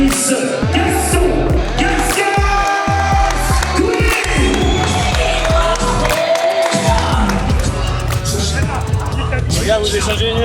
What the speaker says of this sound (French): Mesdames et messieurs, qu'on applaudisse Gaston